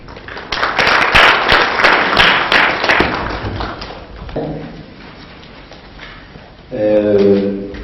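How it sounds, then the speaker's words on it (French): Audience applause in a conference room at the opening of an experts' meeting on infrastructure, several seconds of loud dense clapping that fades to quieter scattered claps, followed by a voice speaking. "merci pour vos applaudissements"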